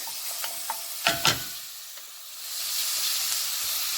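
Onions sautéing in a pan for an Italian-style farro casserole with sausage: a few sharp scraping stirs early on, then a continuous close sizzle that builds and holds steady, with no talking.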